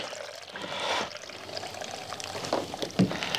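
Liquid pours and trickles as a glycol reservoir is drained from a bench-top portable keg dispenser, a steady close stream with small splashes toward the end and no talking.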